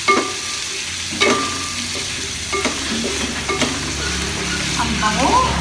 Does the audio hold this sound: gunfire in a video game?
no